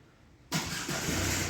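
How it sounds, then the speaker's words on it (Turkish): A 2011 Ford Focus engine starts with a push-button start-stop system: an abrupt crank catches about half a second in, then settles into a steady, close idle. "Tekrar kontağı aç, arabayı çalıştır istersen."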